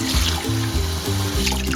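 Hot water is poured into a pot for cooking sticky rice in a Filipino Ilonggo-style arroz valenciana, a close, loud gurgling stream with rising pitch as the vessel fills.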